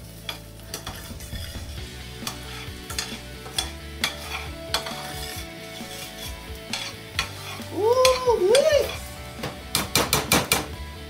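A salmon cake mixture with parsley being stirred in a pan, with repeated spoon scrapes and knocks against the pan over a low sizzle. A short voice-like tonal bit sounds midway, and a burst of quick clacks comes at the end.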